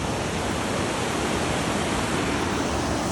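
A mountain river rushes beneath a suspension bridge, a loud, steady broadband roar of water that holds unchanged throughout.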